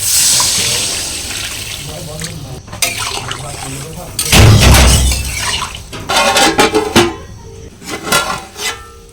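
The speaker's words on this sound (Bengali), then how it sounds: "জল দিয়ে দেবো" Water splashes and pours into a pan of eggplant and potato fish curry, with bursts of running liquid and clattering in a kitchen, louder in the middle and later sections.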